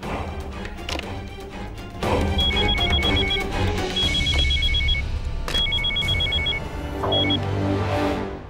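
A telephone bell rings in repeated bursts, loud and close, with short gaps between the rings. Thumps and other background sounds sit underneath.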